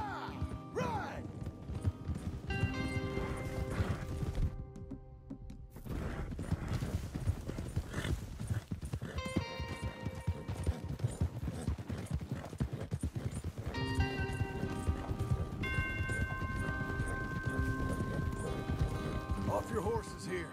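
Horses gallop with a fast, steady clip-clop of hooves through most of the scene, interrupted by a short quiet gap, with music and men calling out over the hoofbeats.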